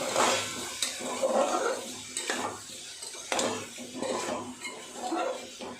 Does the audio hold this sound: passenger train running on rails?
no